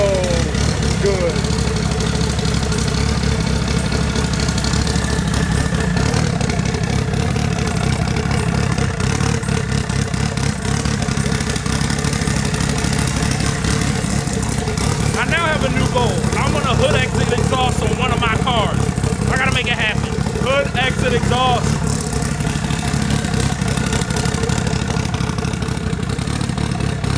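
A turbocharged Dodge SRT4 engine idles and runs loudly and steadily nearby, with a constant rough drone and some clatter, while people talk over it.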